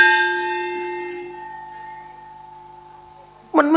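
A temple bell at a Buddhist monastery retreat in Doi Lo, Chiang Mai, rings out once and hums away slowly as a long, fading tone. A brief clatter comes near the end, and no one speaks.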